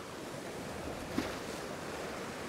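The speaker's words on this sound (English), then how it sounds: "just watching those waves again" Ocean waves wash in a steady, broad rushing hiss, faint and distant, with wind noise over the microphone and a brief soft splash near the middle.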